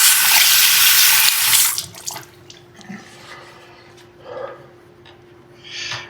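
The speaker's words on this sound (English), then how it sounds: "And then all I do is just wash it off." Tap water runs hard into a sink as an aquarium lid with plastic hinges is washed, loud and steady for under two seconds before cutting off, followed by softer splashes and handling sounds.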